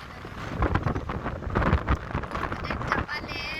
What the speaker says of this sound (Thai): ลมมันจะแรงตอนเช้าเนาะบรรยากาศดีอยู่แต่ว่าลมแรงนี่นะ